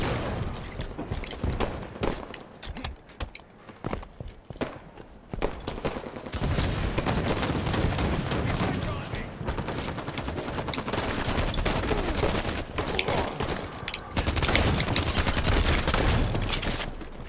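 Rapid gunfire and shotgun blasts in a Halo 5 ranked Slayer multiplayer match, dense bursts of shots with footsteps and action noise, loud and continuous throughout, no talking.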